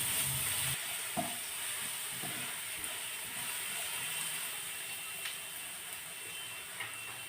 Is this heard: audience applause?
no